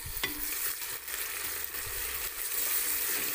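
Paste of ground green garlic and ginger sizzles in hot oil with browned onions while cooking a restaurant-style dal mash curry, a steady loud frying hiss with faint stirring scrapes and no talking.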